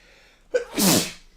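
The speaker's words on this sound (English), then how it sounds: "And I have to sneeze." A single sneeze from a person, a short sharp inhale followed by a bright burst, close to the microphone and alone without other voices.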